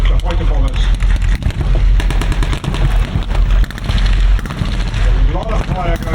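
Dense, loud gunfire and blasts from a WW2 battle re-enactment show, a continuous barrage of overlapping shots and booms close by with a voice speaking under the din.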